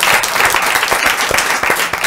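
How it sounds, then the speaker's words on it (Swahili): An audience bursts into dense, sustained applause, many hands clapping together in a loud, even wash of sound with no voices on top. "Watu makofi yao"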